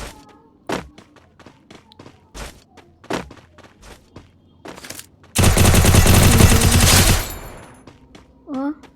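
MP40 submachine gun fire in a shooter video game: scattered single shots and thumps, then a long loud continuous automatic burst, followed by a brief rising electronic tone.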